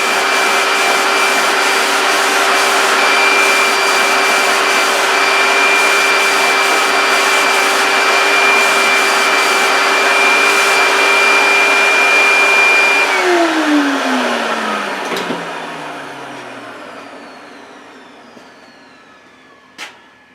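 Lacquer spray gun hissing steadily with a compressor-like hum for about thirteen seconds, then the airflow cuts off and the pitch winds down, leaving faint room noise and a small clack near the end.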